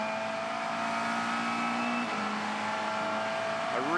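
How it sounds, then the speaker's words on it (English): Onboard a McLaren GT race car at Barbagallo in the 2016 Australian GT Championship, with a steady high-pitched engine whine holding constant pitch, then a shift and rising revs near the end. "we go on board with Nathan Antunes in the McLaren"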